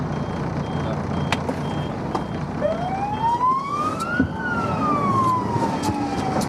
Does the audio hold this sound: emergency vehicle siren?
yes